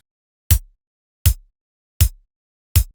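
Four punchy electronic kick drum hits at an even, slow pulse for a slow zouk kizomba beat made in FL Studio, each a deep thud with short decay and silence between.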